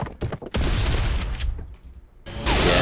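Gunfire in the Serious Sam video game: a quick volley of loud shots, then a sustained heavy blast of firing and booms, a short lull, and another roaring burst, close and loud without speech.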